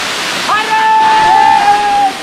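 Mahadev waterfall in the Satpuda hills pours down in a loud, steady rush of broadband water noise, with a thin whistle-like tone briefly heard over it.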